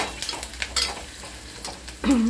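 Onion fries in a pan for a liver fry masala, a brief soft sizzle with a few quick stirring clicks, then a short tonal squeak near the end.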